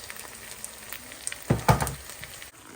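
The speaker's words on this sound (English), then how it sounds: "So I've put in the liquid tomato and the tomato paste." Liquid tomato and tomato paste go into a hot pan with a quiet, steady sizzle, broken by a couple of sharp splattering bursts as they hit the oil, then settling back to a faint fry.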